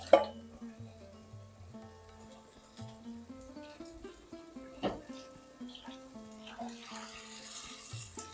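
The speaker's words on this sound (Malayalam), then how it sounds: "ഇതിനകത്ത് ഈ മിക്സി കഴുകി കുറച്ച് വെള്ളം ഒഴിച്ചു കൊടുക്കണം." Water is poured into a mixer grinder jar to rinse out sautéed coriander and chilli for a peas fish curry, a soft splashing that grows toward the end beneath steady background music.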